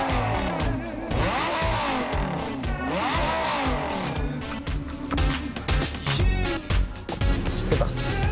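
A Lamborghini LP 560-4 heads out on a race track for timed laps, its engine revving loudly and rising and falling in pitch through the gears, close and continuous.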